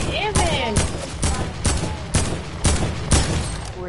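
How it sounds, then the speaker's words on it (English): Rapid bursts of gunfire in an online shooter match, with about eight sharp loud shots spaced roughly half a second apart, backed by game ambience and faint speech. "I'm shooting at this kid"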